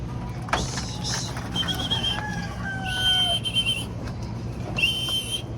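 Roosters clucking and crowing nearby, with short calls and a few drawn-out whistly cries over a low steady background hum.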